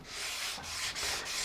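A guitar fretboard is sanded with abrasive paper, a soft hissing rub in repeated back-and-forth strokes with brief breaks between passes, close and fairly quiet with no one speaking.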